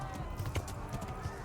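A horse gallops in the medieval game Kingdom Come: Deliverance, its hooves thudding in a quick, steady clip-clop beneath a bed of ambient game sound.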